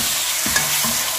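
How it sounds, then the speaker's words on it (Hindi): Chicken pieces frying in oil with garlic ginger paste in a home kitchen, with a steady sizzle and a few stirring scrapes over about a second, close and moderately loud with no talk. "हमारा जो चिकन है वो तकरीबन फ्राई हो चुका है"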